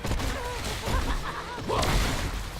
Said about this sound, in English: Stukov got hit by the explosion off of the gunner's E.